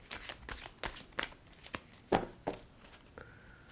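Tarot cards being shuffled by hand, with a string of crisp riffling bursts at an uneven pace and a final softer slide of the deck, close and with no voices.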